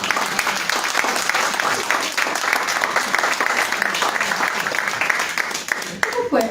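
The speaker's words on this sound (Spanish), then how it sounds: "Aplausos, aplausos para Coca." Audience at a literary talk breaks into loud, sustained applause, dense many-handed clapping close and steady with some voices mixed in, tapering slightly near the end.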